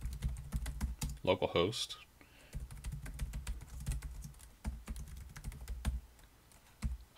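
Computer keyboard typing in quick irregular bursts of soft clicks, close up, with someone speaking briefly over it.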